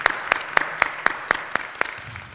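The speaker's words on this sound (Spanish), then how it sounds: "Aplausos, por favor." About eight evenly spaced, sharp hand claps ring out at a televised reading-circle panel discussion in Michoacán, crisp and fairly close, without any crowd noise.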